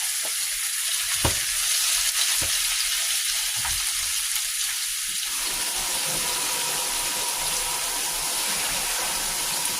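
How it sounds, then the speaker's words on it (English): Potatoes and onions sizzle on an outdoor grill with a bright, constant hiss, broken early on by a few sharp clicks and knocks as the food is set down and moved. "let's get these potatoes on the grill. Potatoes and onions."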